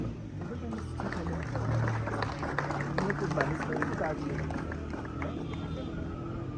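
An audience applauds table tennis winners at a prize-giving, a steady, fairly faint wash of clapping mixed with crowd murmur and background chatter.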